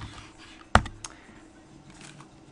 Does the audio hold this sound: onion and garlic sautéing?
no